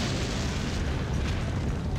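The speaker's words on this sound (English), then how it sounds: "Right after, the explosion roared in his ears." Explosion from the visual novel game Lamento -Beyond The Void-, a dense, sustained roaring rumble that fills the whole clip at steady loudness, like a long blast with no distinct onset or decay.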